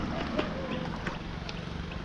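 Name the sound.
boat moving on water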